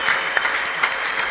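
A church congregation claps together during a Christian worship service, a dense, steady patter of many hands close by and fairly loud for the whole moment.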